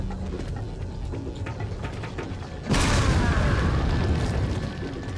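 A grenade goes off in Resident Evil 4, a sudden loud broadband blast that swells and then lingers as a dense rumbling roar for a couple of seconds, following quieter game ambience.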